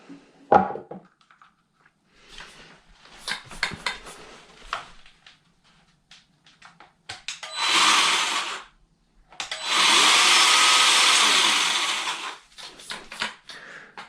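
A Parkside 20V cordless battery-powered pruner motor spinning up indoors in two bursts, a short whir then a longer steady whine, between clicks, handling noises and quiet talk.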